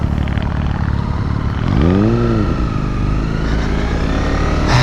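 Honda CBR 300R motorcycle ridden through town, its engine droning steadily and loud throughout, with a rising-then-falling rev in the middle as it accelerates and shifts, plus wind rumble.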